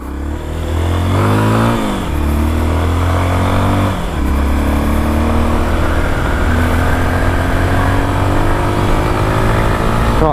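A Honda XRE motorcycle engine revs hard in several bursts, pitch rising and dropping between throttle blips, then settles into a loud sustained drone.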